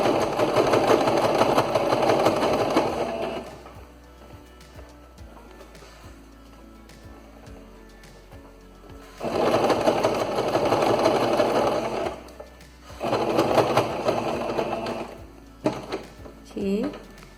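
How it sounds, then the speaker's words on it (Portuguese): A domestic sewing machine stitches a dish towel in loud, steady motor-driven bursts, running for several seconds, pausing while the fabric is adjusted with the needle down, then running again in two more spells. "E sigo costurando."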